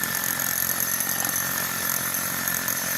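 A steady, loud grinding drone of a hammer drill with a core bit boring through a masonry wall, the bit binding slightly, continuous and unbroken for the whole stretch, with no voices.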